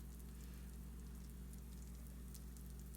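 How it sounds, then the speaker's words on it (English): Potato gnocchi sizzles in a pan on the stove, giving a faint, steady crackle and spatter with a low hum underneath. "we are just cooking this gnocchi right in the pan."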